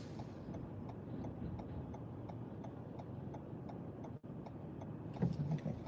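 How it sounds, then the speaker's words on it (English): Road traffic heard from inside a vehicle on a busy road, with a low, steady rumble and faint rhythmic ticking throughout, and a brief louder thump near the end. "There's a lot of traffic on this road today."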